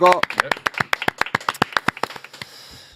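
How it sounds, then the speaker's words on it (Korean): An audience claps to welcome a guest onto a panel talk show, a quick run of distinct, fairly close claps that thins out and stops after a couple of seconds, with a voice at the very start. "박수로 모십니다"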